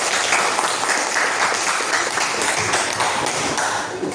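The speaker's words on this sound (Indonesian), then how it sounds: "mari beri tepuk tangan yang meriah" Classmates clap loudly and steadily in a school classroom, a dense, continuous burst of applause for a student group about to present, sustained evenly for several seconds with no talk over it.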